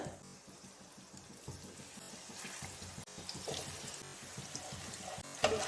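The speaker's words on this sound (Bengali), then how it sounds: "আদাটা দিচ্ছি কাঁচা লঙ্কা কুচি দিচ্ছি দিয়ে দিলাম গরম তেলে" Ginger and chopped green chili fry in hot oil with a soft, steady, fairly quiet sizzle and scattered small crackles, and a louder pop comes right at the end.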